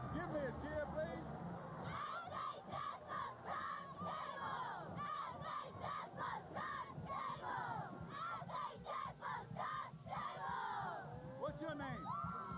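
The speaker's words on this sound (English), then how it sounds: "I got a bunch of Sullivan cheerleaders getting ready to give me a cheer." A group of high school football cheerleaders shout a rhythmic cheer together, loud and close, their voices overlapping in chanted bursts over crowd babble.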